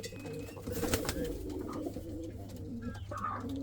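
Several pigeons coo softly and continuously inside a pigeon loft, a low burbling chorus in a quiet enclosed space.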